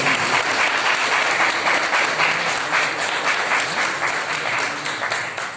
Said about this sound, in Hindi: तालियां बजाकर स्वागत करें।